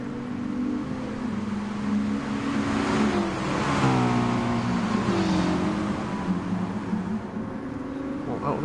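Race car engines roar in a GT2 race on Red Bull Ring or Tokyo East Outer in GT Sport, with two Mitsubishis among the cars. They hold a steady, loud drone with rising and falling pitch as they rev through a corner.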